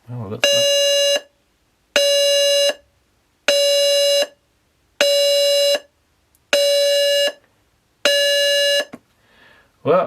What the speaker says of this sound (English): Well, that's our alarm for the bottom bit,